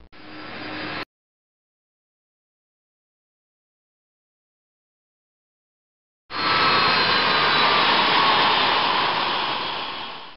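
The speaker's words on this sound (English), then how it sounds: "Now, shut down the right engine." A Boeing 777 jet engine roars in a brief burst, cuts to silence, then returns as a loud, steady broadband rush that slowly tapers near the end.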